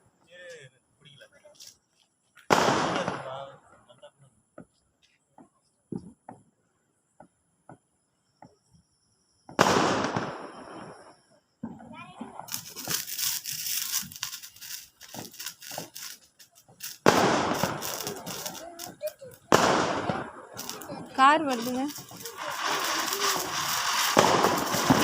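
Diwali firecrackers set off outdoors, loud sharp bangs with crackling bursts near 3 s, 10 s and from 12 s on, some dense rattling strings, with people talking between and over the explosions.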